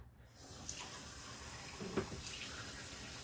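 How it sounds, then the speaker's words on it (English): Water from a tap fills a cup, a soft steady hiss and trickle with a faint splash partway through, quiet and close with no talking. "just filling my cup to make sure I can rinse it after"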